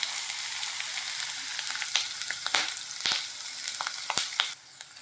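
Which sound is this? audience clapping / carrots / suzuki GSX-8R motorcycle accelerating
carrots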